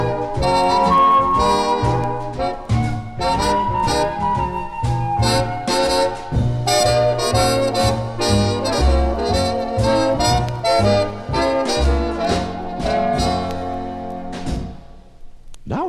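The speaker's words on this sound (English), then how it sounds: "The Pythagoreans played using a flute and an early version of the bass violin and a lyre." Flute, an early bass violin and a lyre, instruments of the Pythagoreans, play a bright layered melody over plucked and bowed low notes, full and steady before fading out at the end.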